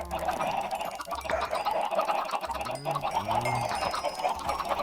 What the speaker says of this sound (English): Bunch of chickens and a bee.